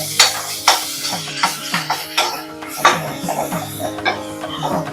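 Ginger garlic paste hitting browned onions in a hot pan, sizzling steadily while a spoon stirs with repeated scraping knocks against the vessel, close and fairly loud.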